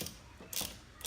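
Loosening the upper and lower shock absorber bolts on a MotoTrax snow bike: short metallic ratcheting bursts from a hand tool, heard in two close clicking runs separated by a brief pause.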